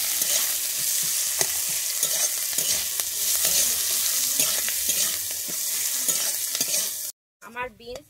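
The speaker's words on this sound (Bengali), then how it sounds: "আমি এইটাকে এবারে একটু ভালোভাবে ভেজে নিচ্ছি" Carrots and beans frying in a pan for masala pasta, a bright, continuous sizzle with rhythmic spatula stirring strokes up close, ending in a brief moment of silence and a few soft sounds.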